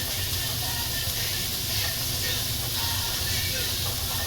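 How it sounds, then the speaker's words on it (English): Chopped onion hits a hot pan for seafood piccata, giving a loud, continuous broadband hiss and sizzle that holds steady throughout. "This pan is hot enough. All right. So now I'm just gonna go ahead and drop my onion."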